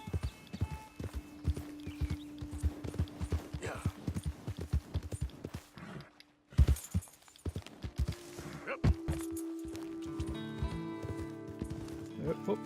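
A wild horse's hooves clip-clopping in the video game Red Dead Redemption 2, a quick rhythmic pounding that pauses briefly and then resumes, with someone talking over it.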